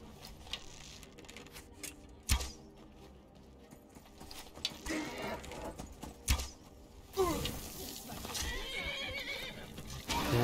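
A horse in the video game Skyrim neighs and whinnies with hoof clip-clops and sharp impacts, amid game music and combat noise, fairly close and varied in loudness.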